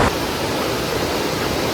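River water rushes in a steady, loud, broadband wash during a crossing of a river in the Sierra Madre, with no voices.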